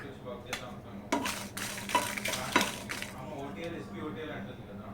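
Dry red chillies and curry leaves roasting in a pan for fried gram powder: faint, quiet sizzle with a few short scraping stirs in the middle, and a person talking softly nearby.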